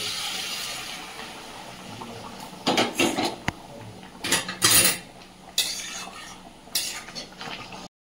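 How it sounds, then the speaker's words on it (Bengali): Hot water being poured into a pot of browned meat, starting with a steady splashing pour and then clinking of utensils and metal knocks against the pot in short bursts. "জল দিয়ে দিয়েছি, ঢেকে রাখবো।"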